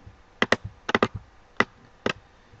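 Keys on a computer keyboard are tapped in short, sharp bursts, a few isolated clicks and quick double strokes, close and fairly quiet with no talking.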